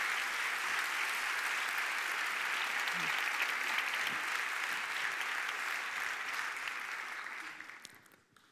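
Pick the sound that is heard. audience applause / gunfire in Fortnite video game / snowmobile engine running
audience applause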